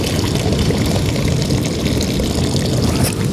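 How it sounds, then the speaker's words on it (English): Water tipped out of a cooking pot on an Irish beach pours in a steady, loud, continuous splash for a few seconds, with no talk. "Gonna tip out some of this water, as I don't need all that."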